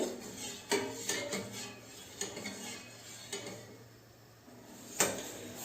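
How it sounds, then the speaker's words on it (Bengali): Milk stirred in a pot over a medium flame for homemade sandesh, with a spoon scraping and clinking against the metal in intermittent knocks and swirls, close and moderately quiet. "দুধটা এভাবে নাড়াচাড়া করে দুটো ঘন করে নিতে হবে"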